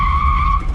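A 1978 Ford F100 pickup doing a burnout gives a loud, steady, high tire squeal over a deep engine rumble. The squeal holds without a break for under a second, close up.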